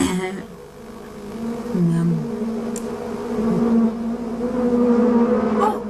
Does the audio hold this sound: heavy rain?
no